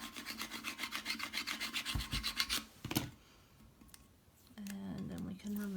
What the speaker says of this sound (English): I can remove my backing, and then just smooth it down. Again, burnish it really well.